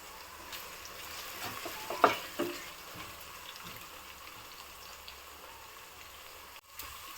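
Onions sizzling in a pan for mutton curry, a soft, steady frying hiss with a few stirring scrapes and clinks, quiet and close.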